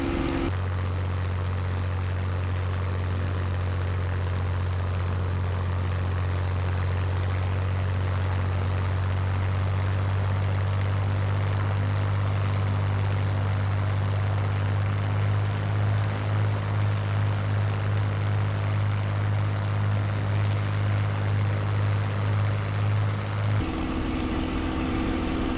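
Spitfire Mk IXc piston engine droning steadily in flight in Microsoft Flight Simulator, a loud constant propeller hum with a low harmonic tone, overheated, running without pause before cutting off abruptly near the end.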